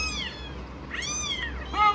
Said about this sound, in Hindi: वो देख रही है कि कौन दूसरी बिल्ली आ गई।